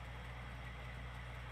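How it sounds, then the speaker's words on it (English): A tractor engine idles in Farming Simulator 19, giving a steady, low, even rumble that holds unchanged throughout with no talking. "Maybe it's Carlos running that tractor."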